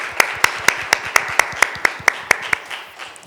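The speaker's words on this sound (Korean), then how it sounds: "감사의 박수를 한번 하겠습니다." A church congregation gives a short round of thanks, about a dozen sharp, evenly spaced claps ringing out clearly in a reverberant hall, fading off at the end with no talking over them.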